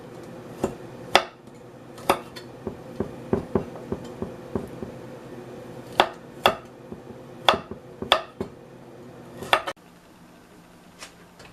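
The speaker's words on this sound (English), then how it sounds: "And then now I'm going to chop up the ginger too. First I peel the ginger." Ginger is chopped with a knife on a chopping board, sharp wooden knocks arriving in irregular bursts, some single and some in quick runs, close and fairly loud against a quiet kitchen.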